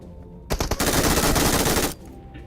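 Automatic gunfire in the mobile battle royale game BGMI: a few sharp opening shots break into one loud, sustained burst lasting about a second and a half, then cut off abruptly.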